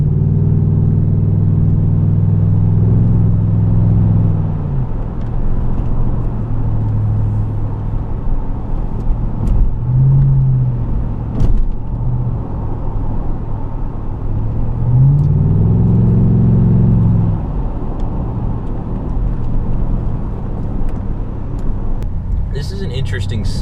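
A Chevrolet Trailblazer SS engine idles with a steady low rumble, swelling briefly in a couple of revs before settling back.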